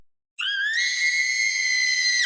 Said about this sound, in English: The screams of Nami, Keiko, and Kumi echo through the hospital as they desperately run away from it